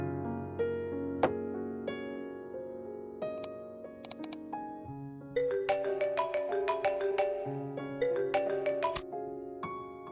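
Phone ringtone for a call from a mother: a melodic electronic tune of bright, repeated notes that rings steadily and quite close, with no talk over it.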